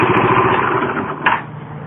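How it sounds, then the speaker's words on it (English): A Yamaha YBR 125 motorcycle engine runs with a close, buzzing idle and then cuts off near the end of the short burst. "Alright, I'm going to cut the engine off."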